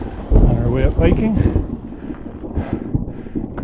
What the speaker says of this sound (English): greeted by some thunder